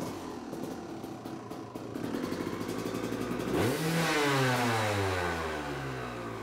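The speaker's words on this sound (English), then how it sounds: "So we're gonna start this and rev the engine." A dirt bike engine fitted with a Rekluse RadiusCX clutch idles roughly, then fires up and revs loudly, its pitch rising and falling in a few sweeping surges close by.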